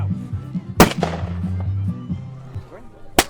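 Two sharp, loud shots crack out at a Maslenitsa festival at the Muranovo estate, one near the start and one at the end, with people talking and low droning sounds around them.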